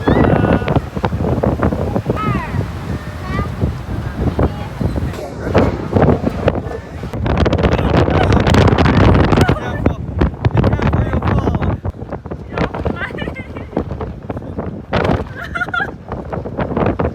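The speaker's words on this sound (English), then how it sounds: "And it's so windy." Strong wind buffets the microphone in loud, roaring gusts at Luojia temple in Quanzhou, China, with a voice talking faintly underneath.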